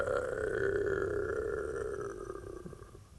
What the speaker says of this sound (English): Was that my stomach?